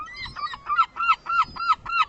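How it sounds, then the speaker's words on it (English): A bird calling repeatedly in a park in Eastbourne, six loud honking calls in an even rhythm, close by with no talk; identified as a seagull. "that's a seagull, not a swan."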